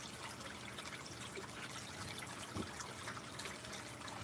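Water trickles and drips steadily from a bolt leak on a Dream Mat Trek sluice into a catch container below, a soft continuous wet patter with one brief louder splash near the end, no voices.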